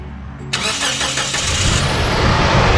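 A car engine cranks and catches, going from quiet to a loud, steady running roar close by during a power steering rack leak repair, with no talking.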